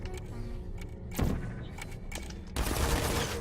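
Portal turrets firing in a test chamber, sharp bursts of rapid shots coming in a few clustered volleys, loud and close, with a heavier sustained burst at the end.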